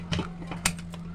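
A metal pressure cooker lid is fitted and twisted shut in a home kitchen, giving a short run of close, sharp clicks and scraping ratchet-like clacks with no talk.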